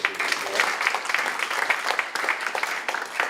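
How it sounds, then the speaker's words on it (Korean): An audience claps at a church thanksgiving service and assembly launch, a dense, even patter of many hands that fills the whole stretch without a clear break. "박수 한번 부탁드리겠습니다"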